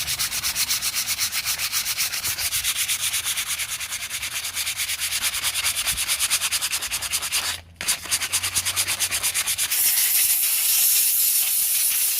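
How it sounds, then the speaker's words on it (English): Continuous raspy scratching of sandpaper rubbed back and forth over wood, close and steady, with a brief pause partway through. "I'm sanding the back"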